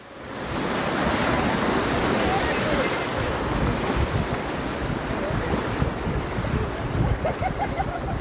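River water rushes steadily during a slow-ride rafting trip on the Mo Chhu in Punakha, Bhutan, a broad continuous roar mixed with wind buffeting the microphone.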